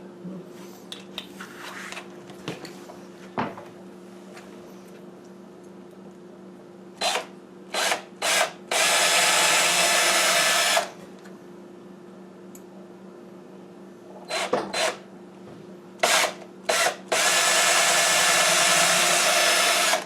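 A Milwaukee power drill bores into an old wood door, whirring in short spurts and then in two long, steady runs, loud and close, with quiet gaps and small knocks between them.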